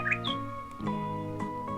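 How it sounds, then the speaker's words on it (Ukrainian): Bright bird chirps and a rising whistle over a steady, tonal musical bed, with a few more short calls later on. "три різнокольорові пташки, що сиділи на гілці і весело співали."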